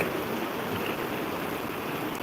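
Pazarsuyu creek near Bulancak, Giresun, rushes past in a steady, full-bodied hiss of flowing water, close and continuous with no pauses or voices.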